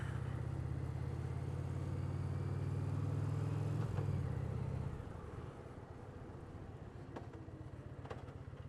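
A 940-pound 2025 Indian Roadmaster 112 motorcycle engine drones steadily and loudly on a city street, then drops to a lower, quieter idle-like rumble partway through, with no talking.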